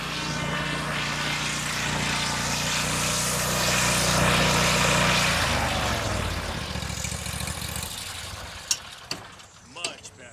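A Toro Grandstand HDX zero-turn stand-on mower with a 72-inch deck and big block Vanguard engine runs with a loud, steady roar that eases down near the end, followed by a few sharp knocks and clicks.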